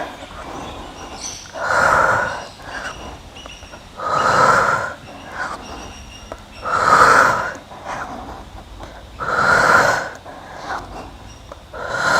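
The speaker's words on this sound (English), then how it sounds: "Exhale down." Four slow, audible exhales during a yoga strength session, each a breathy whoosh of about a second, evenly spaced roughly every two and a half seconds, close and clear with no talking over them.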